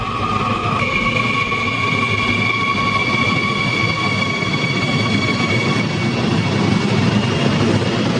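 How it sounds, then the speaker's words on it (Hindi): A subway train rumbles and screeches steadily through Gangbyeon station in Seoul, a continuous loud roar with high metallic whines, no voices. "ये हम आ गए गैंगब्योंग सबवे स्टेशन और ये है भाई मेट्रो"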